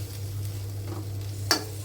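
Raw jackfruit, boiled beforehand, is being stirred with spices in a pan for a prawn curry, giving a soft continuous scraping with a faint sizzle, one brief louder scrape near the end, and a steady low hum underneath.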